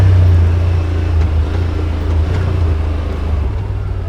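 Yamaha Wolverine RMAX2 1000 Limited Edition side-by-side (2021) on Trail 22 at Windrock OHV Park in Tennessee, its engine a steady loud low rumble that holds throughout, close up and without talk.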